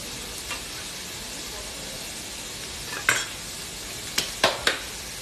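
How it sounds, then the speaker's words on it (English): Onions, green chilies and cauliflower sauteing in ghee in a pan, a soft steady sizzle with a few sharp clinks and scrapes of stirring near the end. "So I'm going to be sauteing this really nicely."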